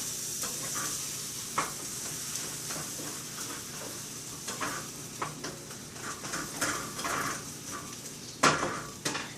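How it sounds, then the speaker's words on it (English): An egg frying with veggies in a pan gives a steady, soft sizzle and hiss, punctuated by occasional clinks and scrapes of stirring, with no voices. "So the egg goes right in there with the veggies."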